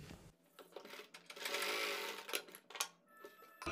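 A sewing machine stitches a neck design along buckram edging with colored piping. Its fast, steady whirring runs close and continuous for a few seconds, then trails off.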